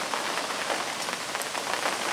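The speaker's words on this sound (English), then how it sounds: "the rain is just getting heavier again" Heavy rain pours down at a lake, a dense, even hiss of drops striking surfaces close by, loud and unbroken with scattered brighter spatters.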